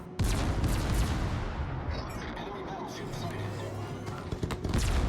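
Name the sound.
naval gunfire in the video game World of Warships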